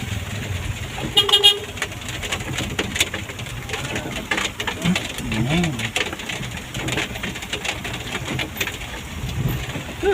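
A car passes on a village road and gives a couple of short horn toots, heard amid outdoor noise, birds and people talking nearby.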